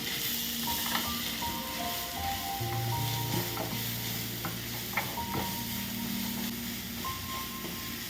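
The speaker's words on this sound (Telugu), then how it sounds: "నెయ్యి వేసుకొని క్యారెట్ తురుము బాగా వేయించుకున్నాము" Grated carrot frying in ghee for carrot halwa, a steady close sizzle with scraping stirs and light clinks of a spoon against the pan throughout, no voices.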